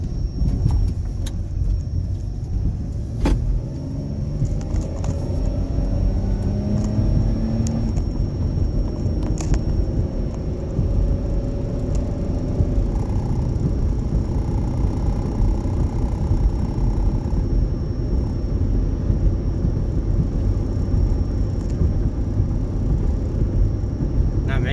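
A 2010 Dodge Grand Caravan, just back from a frozen rear brake repair, drives along a road with a constant loud low rumble of engine and tyres, heard from inside the cabin, with a few faint clicks.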